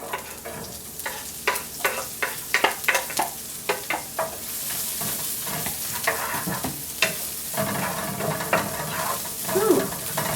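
Green onions and garlic sizzle and crackle in hot oil in a frying pan, with a steady close fry broken by repeated stirring scrapes and clatter.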